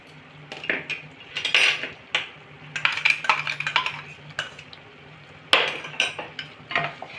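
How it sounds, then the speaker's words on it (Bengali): Ground tomato paste and spices cooking in oil in a pan, heard mostly as repeated metal spoon scrapes and clinks against the pan in irregular bursts, with only a faint sizzle underneath and no talking. "টমেটোটাও ভালো করে কষে নেব, এর কাঁচা গন্ধটা যতক্ষণ না যাচ্ছে।"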